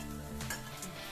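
Long-sliced onions and a handful of curry leaves hit hot oil for beef ularthiyathu, giving a steady close sizzle with a brief stir.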